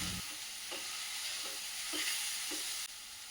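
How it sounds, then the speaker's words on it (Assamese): Onion and masoor lentils fry in oil in a pan, a close steady sizzle broken by soft regular stirring knocks, with no voices. "সেইখিনি তেলতে অলপ পিঁয়াজ ভাজি অকণমান মচুৰ দালি দিছোঁ"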